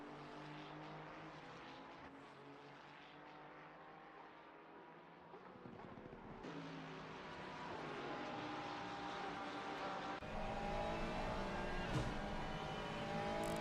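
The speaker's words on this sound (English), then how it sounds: "Listen to the sound of that Porsche engine" A Porsche GT3 race car engine roars steadily at close range at Watkins Glen, its pitch and loudness climbing as it accelerates, with no voices over it.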